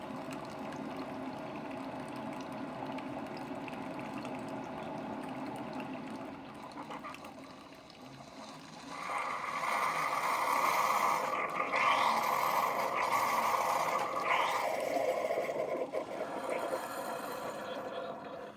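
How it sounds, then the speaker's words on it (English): A Keurig K-Cup coffee maker hums and hisses steadily, then grows louder with a bubbling, gurgling rush as its hot water tank heats, continuing at that level to the end. "You're starting to hear that hot water tank heat up."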